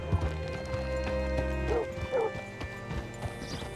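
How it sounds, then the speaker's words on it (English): Hooves clip-clop rhythmically over a steady musical backdrop, followed by a horse's short whinny and snorts nearby, in the video game Red Dead Redemption 2. "Hitch your horse up here."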